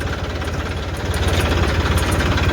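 A PR 132 farm water-pump motor runs steadily near a paddy field, a continuous low mechanical drone with a rapid knocking rhythm, close and fairly loud throughout, with no talk.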